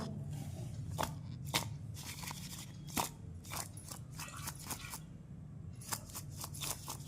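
A spoon works through mixed fruit salad dressed with yogurt and salt, giving close, irregular wet crunches and scrapes, several sharp clicks of utensil against bowl spaced through the stirring.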